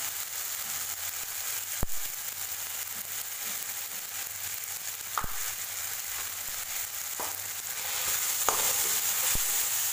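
Curry paste with turmeric and ground coriander seed being stir-fried in a pan for an Indian vegetarian bottle-gourd kofta curry: a steady close sizzle with a few sharp scrapes of the spatula, the frying hiss swelling louder near the end.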